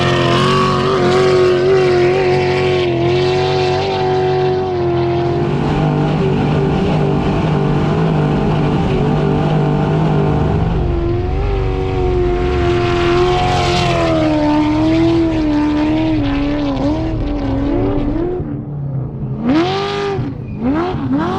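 Race car (the T2) driving on track while its brakes are bedded in, with a loud, close engine whose pitch rises and falls through repeated gear changes and throttle lifts, alone without talk.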